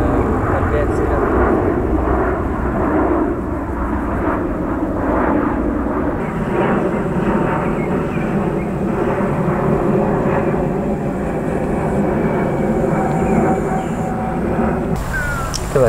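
An airplane drones overhead as a steady, broad engine rumble that holds level for the whole stretch, loud and continuous, heard at a fishing spot by a city river.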